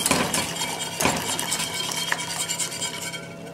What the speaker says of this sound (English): And we mix everything together.